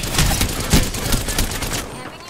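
Rapid gunfire in Apex Legends, a dense burst of repeated shots at a quick rhythm, loud and close, with a voice talking underneath.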